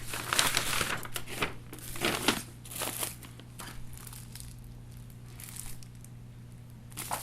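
Paperwork from a business builder kit is pulled out of an envelope, giving close crinkling and rustling paper sounds in several bursts, louder at first and then quieter and more sporadic.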